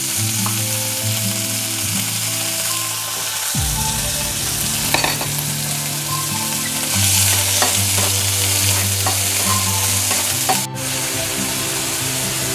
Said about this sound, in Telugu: పచ్చిమిరపకాయలు వేయించిన నూనె అందులో క్యాబేజీ వేసుకుందాం.